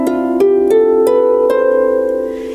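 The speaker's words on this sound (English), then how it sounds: "So the strings of the harp are like the white keys of the piano and sound like this." A harp plays a short run of plucked notes stepping downward, each attack ringing into the next, clear and close with no voices.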